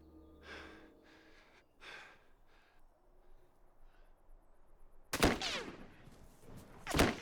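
Sniper rifle gunshots in The Last of Us video game, two sharp, loud cracks a couple of seconds apart following quieter breathing-like sounds.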